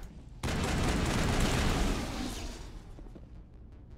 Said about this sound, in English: Where are they shooting at me from?